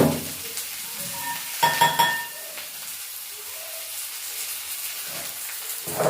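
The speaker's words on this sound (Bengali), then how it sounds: "পেঁয়াজটা একটু ভালো করে ভেজে নেবো আর মশলাটা বেটে নেবো।" Onions fry in a pan for a bitter gourd curry in a village kitchen, with a soft steady sizzle broken by louder bursts of stirring and scraping, close and without talk.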